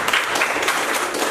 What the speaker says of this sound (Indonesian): Beri tepuk tangan untuk Kaila